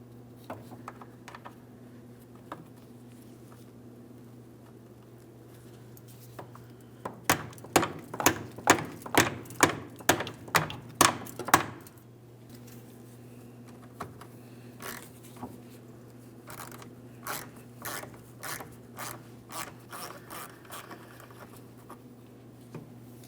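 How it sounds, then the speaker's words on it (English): Ratchet with a 13mm socket working a rusty mounting nut off the vapor canister bracket of a 2007-2014 GMC Sierra 2500 HD, heard as a quick run of sharp, evenly spaced clicks, then a later, fainter burst over a low steady hum. "We'll be using a 13mm to remove our mounting nut"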